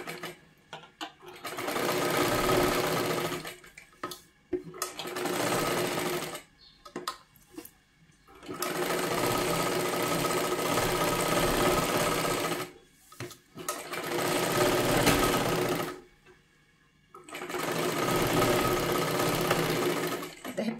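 A sewing machine stitches a round seam on a size 36 katori blouse, running in long, loud bursts of steady whirring broken by brief stops.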